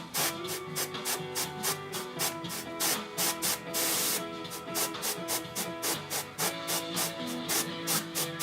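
Spray-gun bursts laying highlight paint on a Jessica Rabbit figure, a fast run of short hissing pulses, with one longer continuous spray in the middle, close and fairly soft, no voices.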